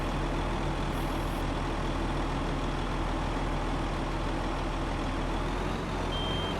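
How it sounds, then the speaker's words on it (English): Heavy trucks pulling trailers rumble in at a farm, a steady loud diesel drone with a brief hiss of air near the start and a faint high whine, no voices. "it looks like the trailers are getting here"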